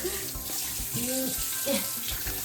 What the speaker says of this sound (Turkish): ben senin kollarını yıkayayım abi